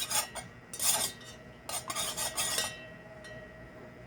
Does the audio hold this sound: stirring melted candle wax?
yes